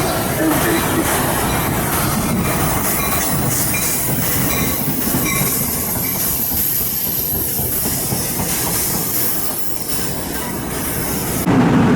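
NJ Transit commuter train running on a local line toward Mountain Avenue in Essex County, heard from inside as a steady loud rumble with clattering wheels and a faint high squeal, nearly unbroken throughout.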